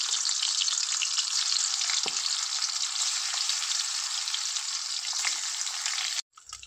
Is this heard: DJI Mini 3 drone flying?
no